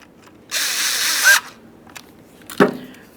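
A power drill drives in a screw on a 2000-2005 Buick LeSabre headlight switch in a short, loud whirring burst lasting under a second, then a sharp ratcheting click moments later, close by with no talking.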